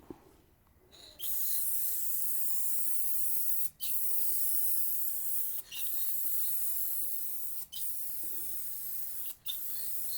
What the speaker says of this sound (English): just give it a quick squirt and check the spray pattern